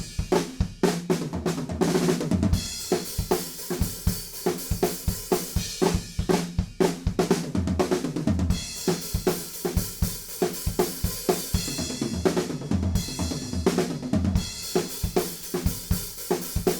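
A drum kit plays the intro from a song, with sharp, rhythmic hits of snare, toms and cymbals in a driving, syncopated pattern, loud and close.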